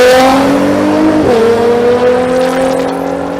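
A Chevrolet S10 drag racing truck launches hard at State Capitol Raceway, its engine screaming at high revs and pitching up as it pulls away. The sound is very loud and close.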